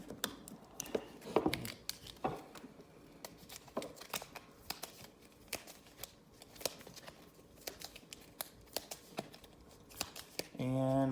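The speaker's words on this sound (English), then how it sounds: "And we're going to go ahead and shuffle these." Cards for the Enemy Action: Ardennes board game being shuffled by hand: quiet close riffles and snaps in irregular bursts over several seconds, ending in a longer riffle, with no talk.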